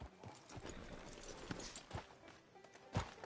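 Horse hooves clip-clop in a video game as a rider arrives outside a sheriff's office, a soft, steady walking rhythm of faint thuds beneath low background sound.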